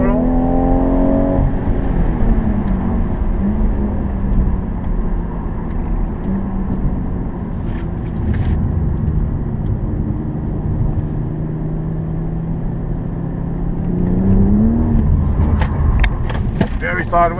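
A BMW M240i in Sport Plus mode accelerates out of a turn on a race track, sliding sideways. Its engine drone rises and holds steady, then climbs again, loud and close throughout.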